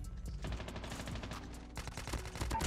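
BK57 rifle fire in Call of Duty Mobile comes as rapid automatic bursts of sharp shots, broken by a short pause before another burst, fairly quiet in the mix.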